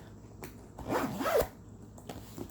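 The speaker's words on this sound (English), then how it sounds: "And then when you zip it up" A zipper pulled up on a tailored danceline boot, one close, smooth rasping zip lasting about half a second, framed by soft handling rustles.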